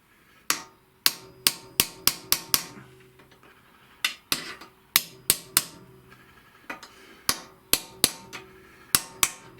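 Sharp metallic hammer taps in quick bursts of several strikes, seating a headset part on a Honda Vision 110 scooter, pausing between groups, close and crisp with a faint ringing tone.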